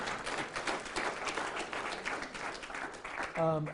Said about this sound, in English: I'll give a round of applause one more time.